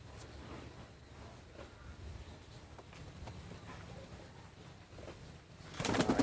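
Pigeons in a breeder's loft coo softly and steadily for several seconds, with a louder, busier burst of sound near the end.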